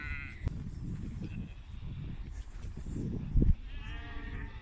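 A flock of sheep being herded in Ireland bleats outdoors at moderate distance, with overlapping calls over a steady background rumble of movement and wind.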